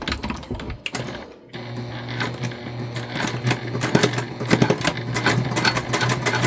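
Sewing machine stitching straight across lined-up short fabric edges, a steady close mechanical whir with rapid needle clatter that continues without talk after a brief pause near the start.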